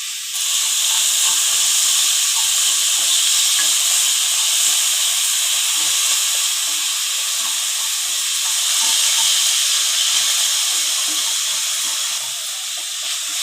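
Finely chopped onions with salt fry in a pan for a soya and dal curry, a steady loud hiss of sizzling oil with faint scattered crackles throughout, close and without speech.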